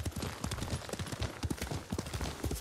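Horse hooves pound at a gallop while riding in the Ghost of Tsushima video game, a quick, close, rhythmic clip-clop that stays steady and fairly quiet throughout.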